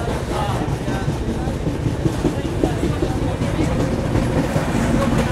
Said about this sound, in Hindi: और हमारी हमसफर ने ले लिया पिकअप यहाँ से